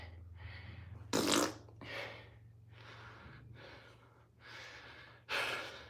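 A fart bag toy lets out a series of about seven breathy, sputtering blasts, some loud and buzzy, others softer, separated by short pauses over a steady low hum.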